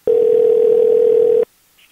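A telephone dial tone sounds while a call is placed. It is one loud, steady, unbroken tone lasting about a second and a half, then cuts off abruptly into near silence.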